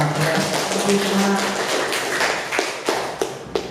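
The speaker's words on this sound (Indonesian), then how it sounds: "tepuk tangan buat kita" Audience clapping at an electronics engineering vocational school class session, a brief burst of scattered claps with voices mixed in, fading into a few separate taps toward the end.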